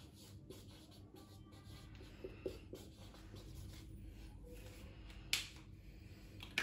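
Marker or chalk writing on a board during an accountancy lesson, a quiet steady scratching that runs throughout, with a sharper tap near the end.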